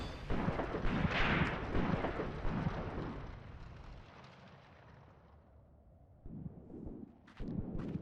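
Close artillery shots in the WWII tactical game Graviteam Tactics: Mius Front: heavy booming blasts with rumbling decay, fading to a quieter lull before more loud bursts return near the end, with no talking.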